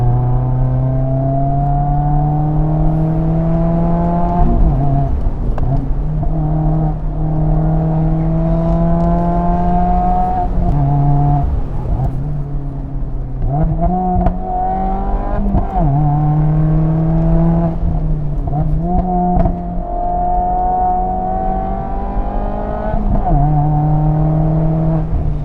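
A car built for motorsport is driven hard around a race track, its engine close and loud, revving up through the gears again and again with brief dips at each shift, continuous throughout.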